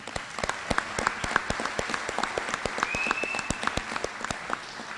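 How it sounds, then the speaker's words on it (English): Applause from an audience at a municipal league gathering, a steady wash of many hands clapping with sharp individual claps standing out, moderately loud and continuous throughout. "I think that deserves a round of applause"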